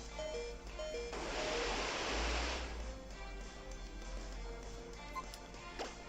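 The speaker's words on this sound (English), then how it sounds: "let's try the Soak technique" Water-move sound effect from the Pokémon Alpha Sapphire video game, a swelling wash of surging, splashing noise lasting about two seconds, set against quieter in-game music.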